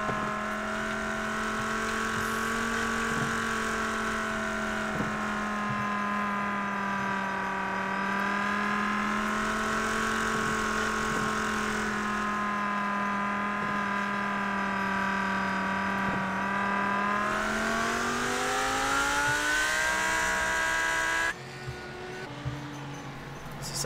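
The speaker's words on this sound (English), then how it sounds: "Let's see if they can get away to a nice single file start and get into a rhythm and start racing again." GT3 race car engines drone steadily during a restart behind the safety car, holding a sustained tone before rising in pitch as they accelerate near the end.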